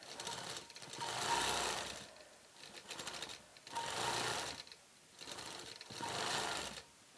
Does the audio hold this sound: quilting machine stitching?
yes